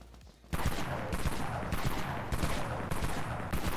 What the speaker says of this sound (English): this is the Jackrabbit B12. It is a new shotgun for the Easter event